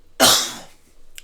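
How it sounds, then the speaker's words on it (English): A single sharp cough from a man with allergies in bad weather, close and loud, decaying quickly, followed by a faint short breath or throat sound. "Sorry for the cough."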